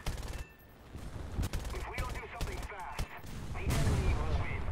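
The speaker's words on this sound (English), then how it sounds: "Random machine gun. Automatic machine gun with no..." Automatic machine gun fire crackles in bursts during a World War II air battle in War Thunder, sharp repeated shots clustering in short volleys, some closer and louder, with a heavier rumbling stretch toward the end.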